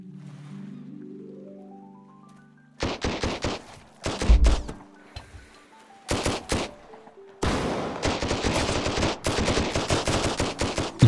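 Gunfire in the survival game Sunkenland at Cliffton Outpost, with bursts of rapid automatic fire and single shots in uneven clusters, then a long sustained volley, loud and close, following a rising tonal sweep at the start.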